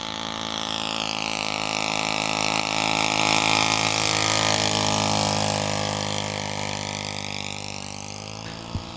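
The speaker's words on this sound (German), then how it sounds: "Hier ist ein 25 Kubikzentimeter Viertakter eingebaut von der Firma Laser, der Laser 150" Laser 150 four-stroke model airplane engine of 25 cc runs steadily up close, a loud continuous buzzing drone with a dense harmonic stack, swelling slightly in the middle and holding near constant pitch, with no talk over it.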